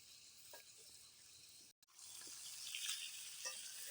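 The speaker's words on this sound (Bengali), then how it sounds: "তো আমরা কিন্তু ভালো মতো নেড়ে চেড়ে মাংসগুলোকে লাল লাল করে ভেজে নিব" Chicken pieces for biryani fry in hot oil with a steady, close sizzle, briefly interrupted by a short gap before the sizzling resumes slightly louder.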